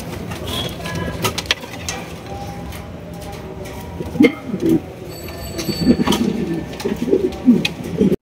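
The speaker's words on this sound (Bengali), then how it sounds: "বিশাল সাইজের এক জোড়া ব্ল্যাক প্রোমানিয়াম পটার কবুতর দেখতেই পাচ্ছেন" Low, soft coos of black pouter pigeons repeat in short murmuring bursts over a busy background hum, growing more frequent toward the end.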